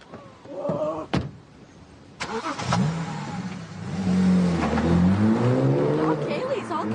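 A car door slams, then an engine starts and revs up loudly as the car pulls away, with people talking over it.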